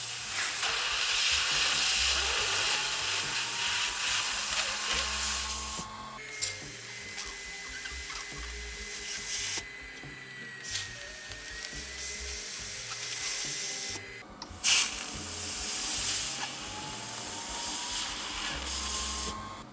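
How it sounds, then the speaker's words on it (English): Cooling fans of an XLaserLab X1 Pro laser welder whir steadily with a faint whine and brief shifts in pitch, a moderate, continuous machine drone with no voices. "I don't know if you guys can hear the fans on the X1 Pro."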